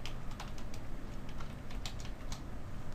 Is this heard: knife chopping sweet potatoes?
no